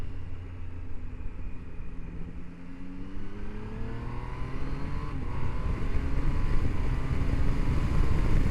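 A 2025 Triumph Tiger Sport 800 motorcycle engine accelerates with a loud, steady drone whose pitch climbs smoothly and grows stronger through the run.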